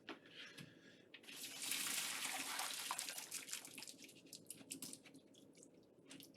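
Cooking water drains through a strainer from freshly cooked vegetables in a kitchen, a loud rushing splash that swells for a couple of seconds and then settles into softer dripping and sloshing.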